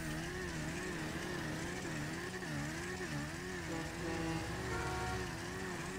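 A car engine in the GTA 5 video game revs hard and strains while climbing, its pitch wavering up and down in a continuous, fairly quiet whine with no talk over it.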